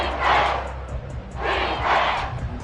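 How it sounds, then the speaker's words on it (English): Crowd noise in the American football video game Madden swells in two broad roaring waves from a stadium audience, rising and easing over a low background rumble. "A big play here as the crowd noise rises."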